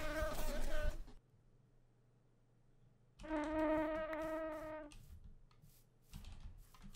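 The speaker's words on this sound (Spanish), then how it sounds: "Hay muchas avispas, ¿eh?" Wasps buzzing in a video game, heard as two close, loud harmonic drones in separate bursts, with quieter gaps and faint background hum between them.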